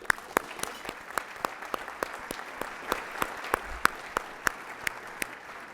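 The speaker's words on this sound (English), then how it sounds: "can we have a round of applause?" Sparse round of applause from a small debate audience, individual claps distinct and fairly close, steady for several seconds with no talking.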